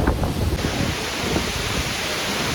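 Strong wind blasts across a mountain trail on the pilgrimage climb to Sivanolipatha (Adam's Peak), a loud continuous roaring rush that buffets the microphone throughout, with no voices.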